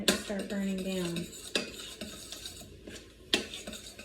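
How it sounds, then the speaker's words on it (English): A spoon stirs a butter mixture in an Instant Pot, scraping and clinking against the metal pot in repeated strokes, with a faint sizzle beneath and no talking. "I need to stir this in real quick, honey, because I don't want it to start burning down."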